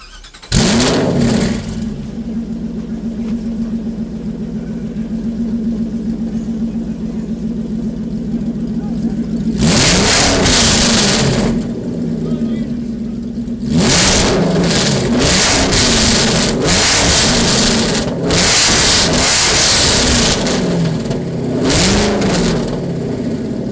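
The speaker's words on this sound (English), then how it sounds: "My 2005 Ford GT. Beautiful Pardo wrap. I love this thing. Let's rev it up." A 2005 Ford GT at an outdoor car rally, its engine loud and close, revving in several strong bursts over a rumbling idle, with voices and crowd noise around it.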